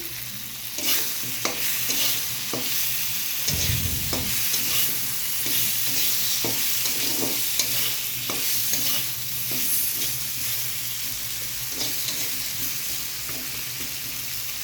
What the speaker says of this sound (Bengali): আলুগুলি ফ্রাই করব। নুন হলুদ দিয়ে দিয়েছি। এবার একটু নেড়ে দেবো।